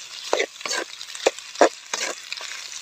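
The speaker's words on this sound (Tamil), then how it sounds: "இந்த கறியை சேர்த்து நல்லா பிரட்டிக்கலாங்க." Sea prawn insect curry being stirred and tossed in a pan, a few scraping, sizzling strokes spaced out in an irregular rhythm, close and moderately loud with no talking.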